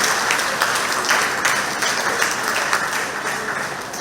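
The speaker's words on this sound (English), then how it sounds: "I want to ask you to give a loud applause for the new executive team" A room of retired association members claps loudly for a newly elected executive team at a community monthly meeting, steady dense applause with a few sharper claps poking through, close and sustained throughout.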